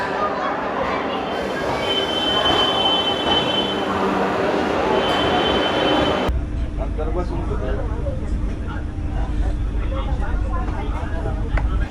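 A passenger train running from Jammu to Pathankot gives a steady, loud rumble of wheels and carriage noise for twelve seconds, shifting to a deeper, rougher roar about halfway through, with some voices mixed in.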